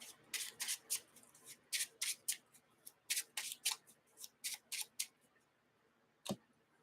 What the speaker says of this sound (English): And we'll shuffle.